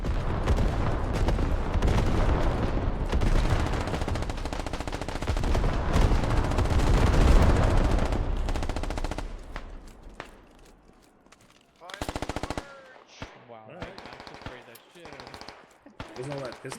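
Rapid bursts of .50 cal machine gun fire crackle in a US Marines invasion video game, dense and sustained for several seconds, then fall away into sparser, sharper shots and short bursts.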